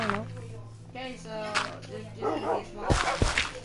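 Dogs in the game Minecraft bark and yip in short bursts, mixed with a voice talking over the top and game sounds, the barks growing louder toward the end.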